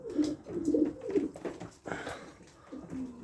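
Low, soft coos from Janssen-line racing pigeons repeat in a loose rhythm, close by, with faint rustling and background noise between the calls.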